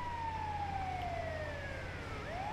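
An ambulance siren in Grand Theft Auto V wails in a long falling tone and then starts rising again, carried over a low vehicle rumble at moderate distance.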